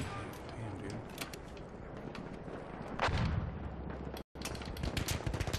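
Gunfire in a Battlefield 1 match, repeated shots and bursts crackling among battle noise with a heavier blast midway and a brief dropout near the end, and a player talking over it.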